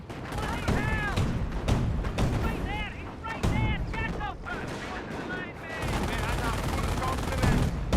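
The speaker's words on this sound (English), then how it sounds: "Smoke mortar from the US player" Smoke mortar rounds fired by a US player in Company of Heroes, heard as repeated battlefield booms and gunfire bursts amid dense combat noise, with a commentator's voice talking over the action.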